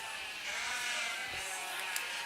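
Sheep bleating in the show ring of a county fair breeding sheep show, a single drawn-out nasal bleat close by over a hazy crowd murmur, with no talk.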